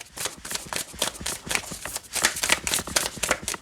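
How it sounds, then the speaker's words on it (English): Tarot cards riffled and shuffled in quick repeated bursts, a crisp papery flutter close by, steady for several seconds. "Shuffle them this way."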